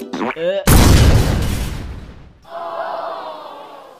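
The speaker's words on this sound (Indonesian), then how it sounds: "Wah, akhirnya nyala juga." A short voice, then a loud sharp bang from a New Year firecracker that decays over a second or so, followed by a hissing fizz.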